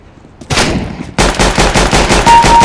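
Rapid gunfire in Counter-Strike: Global Offensive, a loud burst of repeated shots in a steady rhythm after a brief lead-in blast, each report sharp and close.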